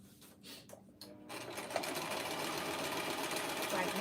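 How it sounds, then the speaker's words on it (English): A sewing machine stitches fabric with a steady, continuous mechanical whir that builds and holds for several seconds, close and fairly loud, after a few brief stops at the start; a voice is faintly present underneath. "I'm sewing right now."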